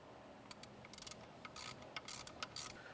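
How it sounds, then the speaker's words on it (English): A socket wrench with a 5/16 hex socket ratchets quickly while tightening a bolt during a supercharger kit installation on a 2024 Mustang GT, giving faint, close, rapid clicking bursts. "you'll grab your socket wrench with a 5/16 hex on it. Go ahead and tighten that down."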